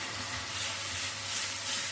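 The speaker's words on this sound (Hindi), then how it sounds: "सब्जियों को हम हल्का सा फ्राई कर लेते हैं" Vegetables lightly frying in a pan alongside an egg for Chinese-style rice, a steady close sizzle and hiss running continuously, swelling slightly in places.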